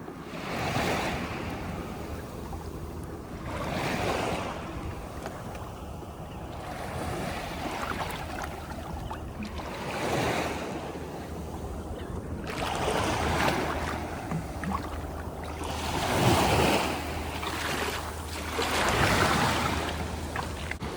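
Wind buffets the microphone over the steady hum of a Carolina Skiff J16 cruising along a beach in three feet of water, as waves surge and swash in slow, repeating swells nearby.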